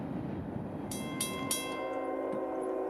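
Northbound freight train pounding along a Central Georgia rail line near Cordele, a steady low rumble with a few sharp metallic clanks and squeals, moderately close, no talk.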